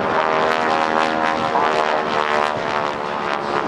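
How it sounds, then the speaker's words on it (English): GEICO Skytypers propeller aircraft fly in formation at the 2008 NAS Oceana airshow, a loud, steady droning engine roar that stays close and continuous throughout. "have the other aircraft join by adding power and putting their nose in front of lead to fly a shorter distance"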